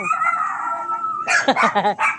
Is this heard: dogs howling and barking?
yes